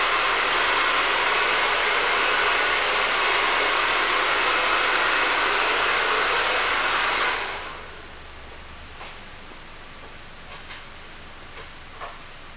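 A hair dryer blows loudly and steadily as hair is dried completely before smoothing, then switches off about two-thirds through and leaves faint clicks and light handling noises; nobody speaks.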